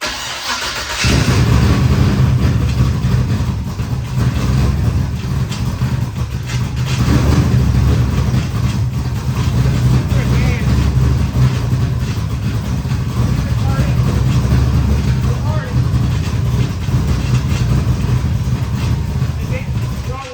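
A Camaro engine runs steadily at idle with a low, continuous rumble, loud and close, holding an even level throughout.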